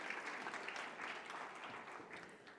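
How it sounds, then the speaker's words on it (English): Steady applause from an audience at a business conference greeting a speaker, a dense even patter of many hands clapping throughout at moderate, somewhat distant level. "let's give him a round of applause"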